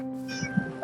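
A cat in Minecraft gives a couple of brief quiet meows over a steady hum of game sound, short and close, with no voices.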